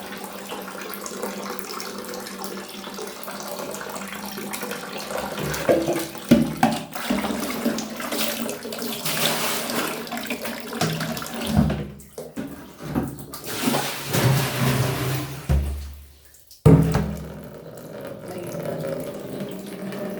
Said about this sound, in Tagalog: Pupuno ako ng tubig.